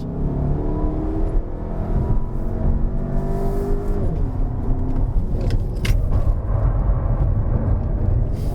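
A 2020 Volkswagen Arteon with a 190 PS, 320 Nm engine climbs Genting hill, its steady, loud engine drone and road noise continuous throughout with gear-related pitch shifts and no talking.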